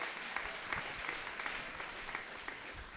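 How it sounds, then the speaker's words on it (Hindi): A church congregation applauding during a Sunday service, steady diffuse clapping from many hands at a moderate distance, with no voices over it. "ताली बजा के Bob भाई का स्वागत करें।"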